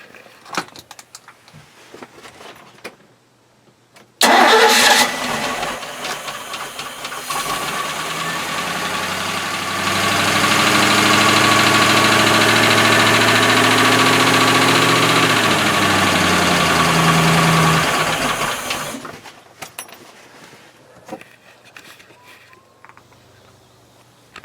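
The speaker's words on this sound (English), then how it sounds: "I'm going to turn the key, turn the motor on real quick" Boat outboard motor cranked with a key, catching right away and settling into a steady, loud idle that rises somewhat in intensity before shutting off, with faint clatter before and after.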